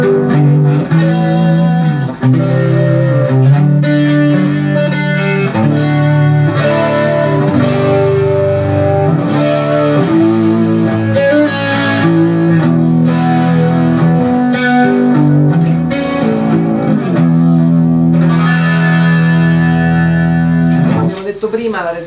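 Red Special electric guitar played through its neck pickup, a round, full tone with distortion and effects, sustained chords and melodic lines ringing loud and continuous for about twenty seconds with no talk over it.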